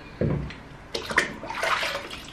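A mop is dipped into a bucket of hot soapy water in a home being prepared for a move, giving a brief splash followed by sloshing and watery swishing nearby.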